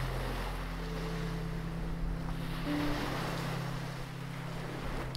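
Sea waves wash continuously in a relaxing ocean ambience, a steady broadband rush with wind-like noise and a low, constant hum beneath, no voices present.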